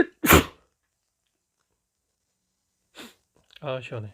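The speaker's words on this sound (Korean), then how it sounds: "아이고, 재채기가 나왔네요." A single sharp indoor sneeze bursts out close to the mic, followed after a pause by a short breath and a speaking voice.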